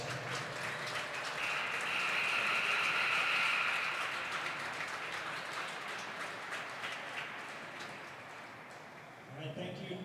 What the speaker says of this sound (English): Let's give our seniors and their wonderful parents a big round of applause.